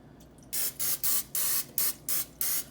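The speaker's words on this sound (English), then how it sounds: "let me just give this a little spray here" Cooking oil sprays onto chicken inside a Ninja Foodi air fryer in about seven quick, loud hissing bursts close to the source.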